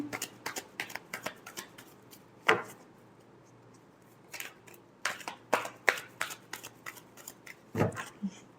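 Tarot cards being shuffled by hand in a quick run of crisp riffling bursts and flicks, close and fairly loud, with short pauses between the bursts and no talking.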